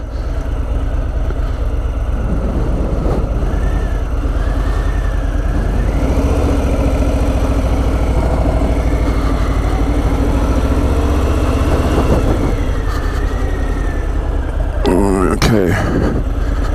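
A Harley-Davidson FLSL 1740 Slim motorcycle engine idles with a steady, low, loud rumble, voices talking over it and a brief clatter near the end.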